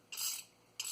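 Deburring a cut stainless steel brake line: two short, scraping strokes of metal on metal, a dry rasping sound repeated with a brief pause between, close and fairly quiet.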